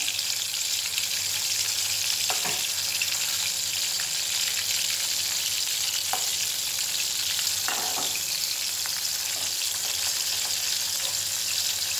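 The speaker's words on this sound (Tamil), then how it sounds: "கொஞ்சம் நல்லா பொரியட்டும்" Dried fish pieces frying in oil in a pan for a spicy dried-fish thokku, giving a steady close bright sizzle throughout with a few faint clinks of a utensil and no talking.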